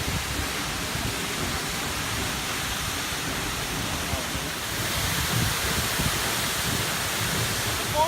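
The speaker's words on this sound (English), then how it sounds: "This amazing fall drops 60 meters to the ground here." Steady, broadband roar of falling water, dense and unbroken throughout, from Seljalandsfoss waterfall in Iceland, which drops 60 meters.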